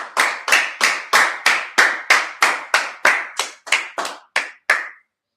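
An audience at a religious gathering claps together in a slow, steady rhythm of about a dozen loud, crisp beats that gradually thin out and stop.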